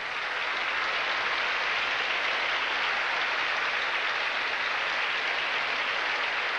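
Cheering and applause from the audience at the Miss Universe 1988 interview competition, a dense, steady wash of clapping that holds at full strength throughout.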